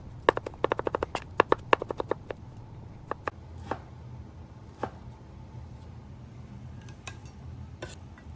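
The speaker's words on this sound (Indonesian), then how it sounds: "Kita ada baksoan, kita mau potong-potong ini buat masak mie nanti" Bakso meatballs are chopped on a board for noodles, with a quick run of sharp knife taps that is followed by a few slower, sparser cuts in a quiet kitchen.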